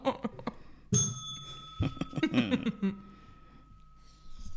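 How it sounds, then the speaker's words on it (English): A two-tone doorbell chime sound effect rings out clearly at the start and rings on with a sustained tone, followed by some breathy sounds and light laughter. "Ding dong."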